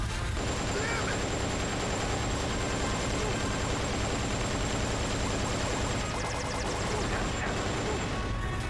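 Gunfire in Metal Gear Solid: Portable Ops, a dense, continuous wall of loud shots and battle noise with a steady high whine throughout, close and unbroken.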